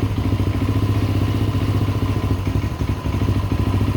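A 2019 Tao Raptor 200cc ATV idles loudly up close, its loose bolts producing a continuous rhythmic metallic rattle that rides on the engine's steady pulse for several seconds.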